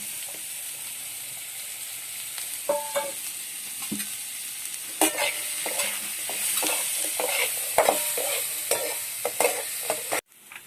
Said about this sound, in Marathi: तेल टाकून त्यामध्ये आता कांदा टाकून थोडा वेळ कांदा आपण तळून घेऊ तेलामध्ये